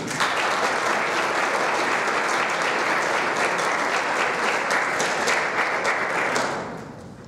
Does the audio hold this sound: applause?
yes